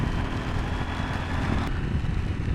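A 2020 KTM 790 Adventure S motorcycle rides through heavy rain, with a loud, steady roar of wind, spray and engine drone rushing past the rider.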